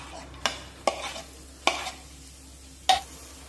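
Chopped coriander gets stirred into garlic frying in a pan for peanut chutney, with four sharp spatula scrapes and clacks spaced over a low sizzle.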